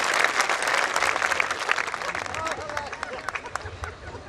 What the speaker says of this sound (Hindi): अगर आप सहमति रखते हैं तो जरा तालियां बजा के उसे बताएं